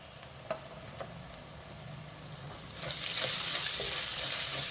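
Turmeric sizzles in a pan with ginger and garlic, quiet at first with a few faint clicks, then a brighter steady frying hiss rises partway through.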